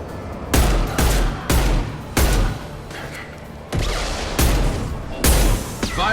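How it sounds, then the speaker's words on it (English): Heavy weapon fire in Mass Effect 2: about eight loud, booming shots at a steady pace roughly every half second to second, each with a deep thump and brief decay, no voices. "Firing a high-impact shot."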